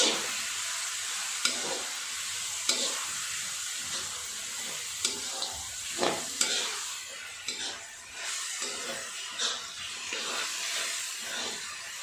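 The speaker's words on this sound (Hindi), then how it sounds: "और ये सब डालने के बाद हम इसको घुमाएंगे।" Noodles and pasta sizzle and hiss steadily in a hot pan while a utensil stirs them, giving occasional sharp scraping clicks over the constant frying, with no talking.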